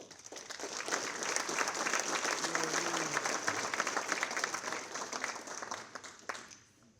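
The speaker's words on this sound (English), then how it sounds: "Please give yourself a round of applause." Guests at a gala ball give a room-filling round of applause that swells, holds steady for several seconds and then tapers off, with faint crowd murmur underneath.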